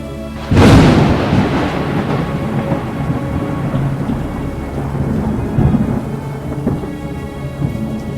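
A thunderstorm breaks with a sudden loud thunderclap, then a long rumbling roll under steady heavy rain, with further low rumbles fading in and out throughout.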